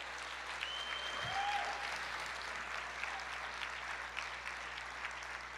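Church congregation applauding together, a steady, dense wash of clapping that holds evenly throughout, with a brief low thump near the start.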